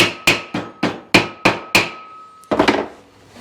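Hammer blows on car brake parts of a 1955 Chevy Nomad: six evenly spaced sharp metallic taps, close and loud, followed by a rougher clattering strike near the end.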